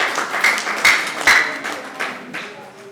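Guests at a wedding applaud in short, uneven bursts of clapping that swell and fade, fairly close and loud, with a faint tone lingering underneath.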